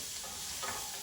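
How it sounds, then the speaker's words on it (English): Onions being stirred around a hot pan, giving a soft, continuous sizzle with a faint scraping swell partway through, quiet and close. "I'm going to move the onions around a little bit more."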